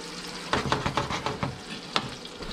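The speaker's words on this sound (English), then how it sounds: "I got uh, baby portobello mushrooms that I'm cooking off right here for you guys." Baby portobello mushrooms frying and being stirred in a pan outdoors, with a steady close sizzle and several sharp crackling bursts and stirring clatters, no talking.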